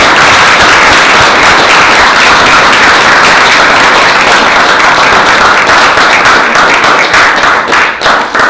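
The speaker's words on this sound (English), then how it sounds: "Let's give these guys a round of applause." Loud, close audience applause at a panel talk, a thick wall of clapping that holds steady for several seconds before thinning slightly toward the end.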